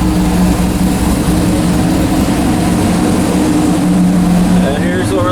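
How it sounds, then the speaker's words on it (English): A deep, steady V8 engine rumble from a C6 Corvette with a performance cam and American Racing exhaust with high-flow cats, with a loping low-end throb, close and loud throughout. "Great sounding cam."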